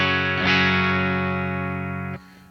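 An electric guitar fitted with a Seymour Duncan Diamond Head pickup plays through a clean amp with EQ at halfway and saturation off. A single ringing chord sustains for about two seconds before being cut short.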